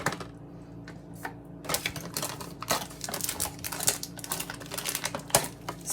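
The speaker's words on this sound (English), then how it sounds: "I'm going to chop up the chicken." A knife taps rapidly against a cutting board chopping chicken, quick irregular chops running almost continuously, close and crisp.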